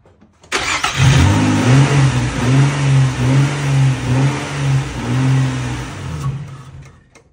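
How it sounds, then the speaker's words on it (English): A car engine revs repeatedly right after a jump start from a portable jump pack, several rising and falling revs in a row, loud and close, before the engine settles back and fades. "And I'll rev it a few times."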